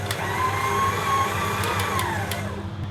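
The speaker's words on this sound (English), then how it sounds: "So I'm just going to start off my mixer and beat back my sugar and butter." An electric stand mixer beats butter and sugar for a Victoria sponge cake, giving a steady close motor whir with a wavering whine that runs continuously for the whole stretch, with faint clicks near the end.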